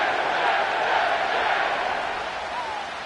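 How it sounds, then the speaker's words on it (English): Stadium crowd roar from an EA Sports NFL playoff video game, a steady dense wash of cheering that stays loud throughout and eases slightly toward the end. "The crowd is alive,"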